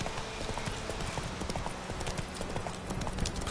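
Roach the horse gallops in The Witcher 3, rapid rhythmic hoofbeats pounding close and loud over a busy game soundscape.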